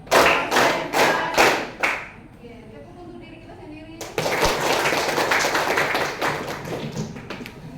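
A classroom of students performs a rhythmic concentration clapping game, with loud, patterned hand claps and taps in bursts, a brief quieter pause with voices, then a sustained round of clapping.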